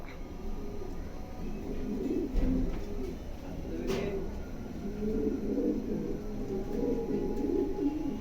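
Red check pigeons coo softly and repeatedly in low, rolling phrases over a steady background hum.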